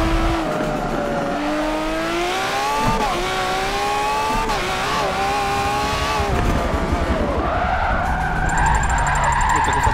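Continuous loud tire squeal and skidding from a car in Forza Motorsport 7, pitch sliding up and down as the car slides and recovers, over a steady engine drone, with no talk.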